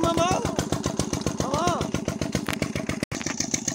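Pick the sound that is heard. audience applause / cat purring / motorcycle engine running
motorcycle engine running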